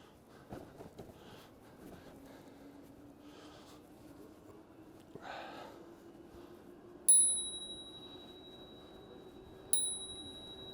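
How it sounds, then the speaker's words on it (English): A handlebar bell on a Riese & Müller Homage HS e-bike gives two bright, clear dings a few seconds apart over a quiet outdoor background during a ride. "I like my bell."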